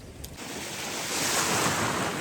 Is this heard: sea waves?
yes